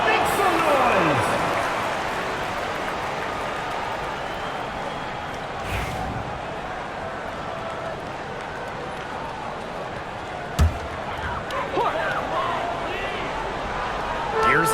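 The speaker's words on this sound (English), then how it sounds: "Fans, please give a big round of applause as your youth dance squad makes some noise." A simulated arena crowd in the WNBA 2K25 basketball video game applauds during a timeout as a youth dance squad performs, a steady, dense roar of cheering and clapping that runs the whole time with no talk.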